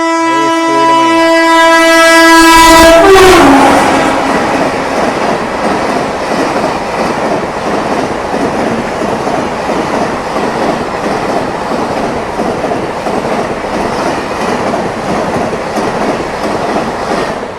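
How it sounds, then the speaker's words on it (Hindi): A passenger train in North India rolls along the tracks with a loud horn blast at the start, then a steady rhythmic clatter of wheels over rail joints that continues close and prominent throughout. "सो भाई बैठ चुके हैं आप अपनी ट्रेन में, AMU में, जो कि भाई अलीगढ़ तक जा रही है"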